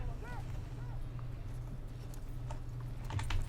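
Rhythmic clip-clop of a horse's galloping hooves in Battlefield 1 with game-like sound effects, fairly quiet, with a voice briefly talking.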